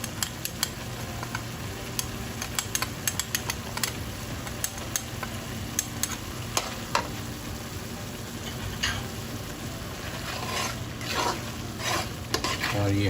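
Meatball masala sizzles and fries in oil in a pan while being stirred steadily, with frequent scraping and clinking strokes over a continuous hiss throughout.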